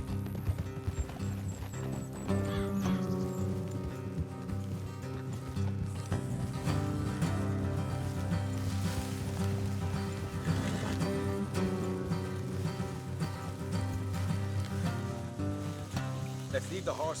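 Horses' hooves clip-clop steadily during a ride in Red Dead Redemption 2, mixed under a dense, loud music bed with speech present, and an occasional whinny is possible.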